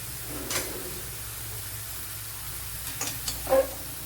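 Chicken pieces tipped into a hot pan sizzle softly and steadily, with a few short scraping and clattering stir sounds near the start and end.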